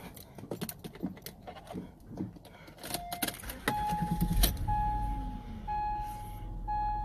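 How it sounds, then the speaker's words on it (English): An Acura MDX engine cranks and catches, then settles into a steady, quiet idle, with some handling clatter and faint clicks around it. "Start it up now."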